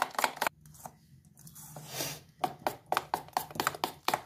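Maida and besan batter for dahi bhalle beaten by hand in a bowl, a steady run of close, quick wet slapping strokes after a short pause, with no talk.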